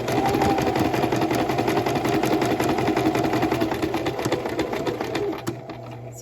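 A sewing machine stitches a fabric hem at a fast, continuous rattling pace for several seconds, loud and close, then slows and cuts off near the end.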